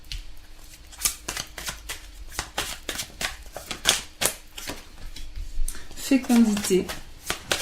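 Oracle cards shuffled for a reading, quick irregular riffling and slapping of cards close by, with someone speaking briefly near the end.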